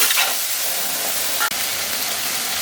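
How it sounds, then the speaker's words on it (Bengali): Tomatoes that had been kept in the fridge and released water fry in a pan with dry chillies, bay leaf, cinnamon and cumin, giving a steady, close sizzling hiss throughout with one brief dip. "টমেটোটা ভাজা ভাজা হয়ে গেছে।"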